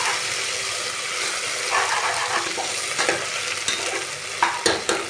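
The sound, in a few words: stirring fried onions with ginger garlic paste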